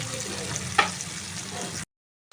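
Drumstick pieces frying in a pan for a milky shukto curry, giving a steady, close hiss of sizzling oil with a brief stir or clatter partway through before the sound cuts out.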